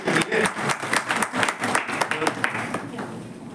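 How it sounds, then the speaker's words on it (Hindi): Applause from an audience at an education talk, a dense patter of many hands clapping at close range that fills the short stretch and eases slightly toward the end. "एक बार ताली तो बजानी है"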